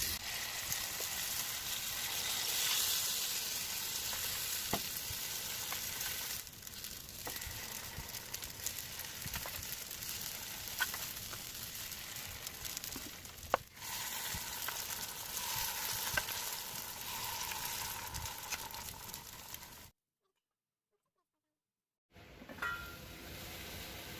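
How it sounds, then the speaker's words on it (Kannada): Poddu batter sizzles in a lightly oiled pan, a steady close frying hiss with occasional soft clinks and stirring, briefly cutting to silence near the end before the sizzle returns. "ಈಗ ಪೊಡ್ಡನ್ನು ಹಾಕ್ತಾ ಹೋಗ್ತೀನಿ"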